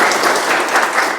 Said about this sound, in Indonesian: tepuk tangan dulu untuk Devia